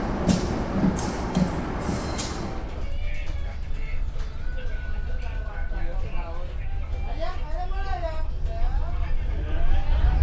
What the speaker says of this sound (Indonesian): sekarang kereta api Wijaya Kusuma sudah diberangkatkan kembali dari stasiun Rogo Jampi.